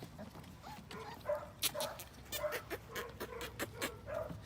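Puppies on grass give faint, repeated high whimpers and small yelps in short irregular bursts, fairly quiet and close, with light rustling between them.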